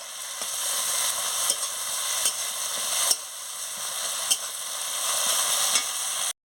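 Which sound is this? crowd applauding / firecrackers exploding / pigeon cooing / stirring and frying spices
stirring and frying spices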